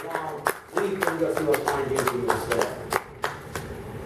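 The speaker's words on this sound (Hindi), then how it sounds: "ताली बजाओ" An audience claps hands at a corporate training session, a run of sharp, scattered claps spread across the moment under continuous talking.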